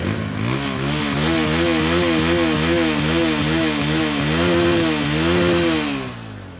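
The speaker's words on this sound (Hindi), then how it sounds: "तो कुछ इस तरह से TVS की अपाचे का एग्जॉस्ट नोट सुनाई देता है इस RTR 160 का" A TVS Apache RTR 160 motorcycle's exhaust note, a loud, steady idle with a rhythmic, pulsing throb and slight revs, close up and alone throughout with no talking.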